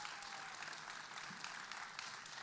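A concert audience applauds continuously, a dense even wash of clapping from a distance, faint and steady throughout.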